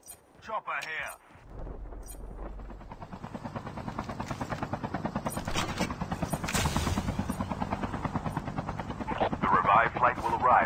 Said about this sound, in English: Chopper here.